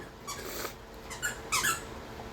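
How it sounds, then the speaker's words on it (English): A dog chews on a squeaky toy, giving a few short, high rubbery squeaks spread over a couple of seconds, fairly faint against a quiet indoor background. "if you guys hear a squeak, that's because of him using a squeaky toy"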